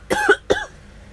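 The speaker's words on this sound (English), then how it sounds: "I almost coughed out my sweetie." A person gives two short, sharp coughs in quick succession, close up and fairly loud, then falls quiet.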